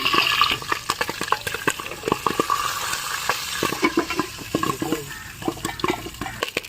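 Popcorn for watermelon popcorn pops rapidly in a pan, with irregular sharp cracks over a sizzling, hissing background, close by.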